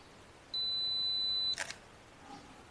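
A camera on a two-second self-timer emits a single steady beep lasting about a second, followed immediately by the crisp mechanical clack of the shutter firing, in a quiet outdoor wildflower setting.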